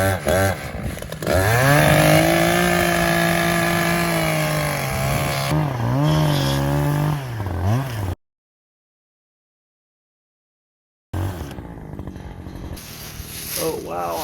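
Chainsaw cutting wood, loud and near with steady high-revving engine drone that dips in pitch under load for about eight seconds, then cuts out to silence before a quieter idling tail returns.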